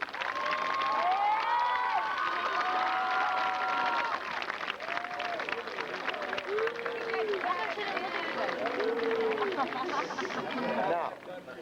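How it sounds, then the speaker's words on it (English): A crowd at a 1997 Foothill High School graduation ceremony applauds and cheers in a sustained roar of clapping, mixed with shouts and whoops, fairly loud throughout before tapering at the end. "give those people back there a rousing round of applause for bringing you this far"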